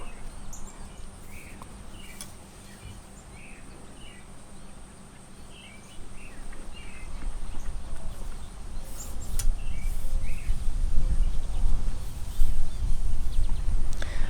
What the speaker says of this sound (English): you can hear all of the goldfinches.